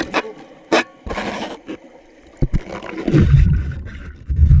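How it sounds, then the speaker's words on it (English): Rubber gloves squeak and rub against a cheap universal underwater phone case, recorded underwater as sharp, scattered squeaks and scrapes over a murky low rumble of water movement. "That squeaking sound you're hearing, it's just because we wear rubber gloves when underwater"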